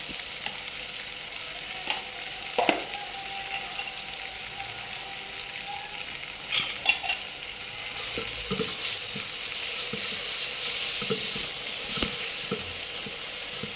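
A chicken masala and yogurt mixture fries in a pot for a one-pot biryani, sizzling steadily up close, with scattered stirring knocks and scrapes and a hiss that swells toward the end, with no speech.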